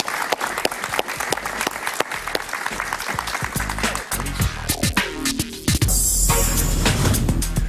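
Studio audience applauding a guest on a Spanish-language talk show, dense sustained clapping close by that swells and then gives way to a brief musical sting near the end.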